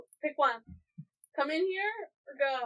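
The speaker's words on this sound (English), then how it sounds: "okay, there's a cat." A house cat gives a few drawn-out, rising and falling meows at close range, alternating with a person talking to it.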